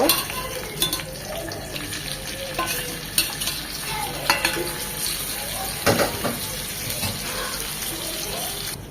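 Pieces of boal fish fry in hot oil with a steady, close sizzle. Periodic scrapes and knocks of a utensil against the pan sound over the frying.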